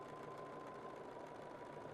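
A sewing machine runs steadily while stitching a seam on a scrap quilt, a faint, close, even mechanical whir with a fast regular stitching pulse and no talking.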